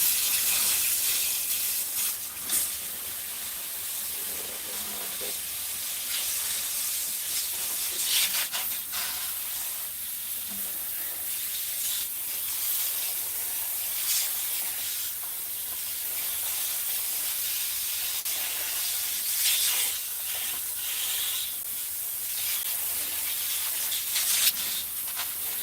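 A spray sprayed hard gives a loud, close hiss in repeated bursts and longer blasts with brief gaps, continuing for about twenty-five seconds without talk.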